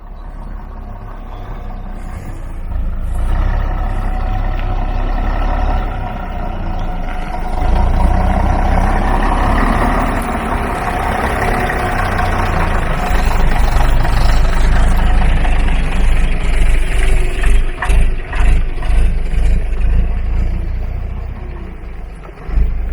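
An RF Regal bus sits with its engine idling, a loud, steady low throb that carries on throughout and turns into a run of rhythmic pulsing knocks near the end.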